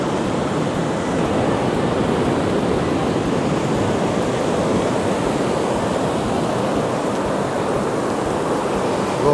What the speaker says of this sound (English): Look at the size of those waves. They're quite impressive waves,